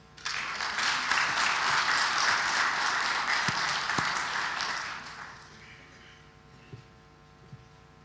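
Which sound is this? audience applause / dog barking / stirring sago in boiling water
audience applause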